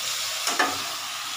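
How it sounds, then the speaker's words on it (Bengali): Paneer is added with a ladle to a winter vegetable curry of potato, cauliflower and green peas, giving a steady close sizzle with a brief sharper splash and flare as the pieces drop in. "পনিরটা দেখো এইভাবে হাতা দিয়ে উঠিয়ে উঠিয়ে দিচ্ছি"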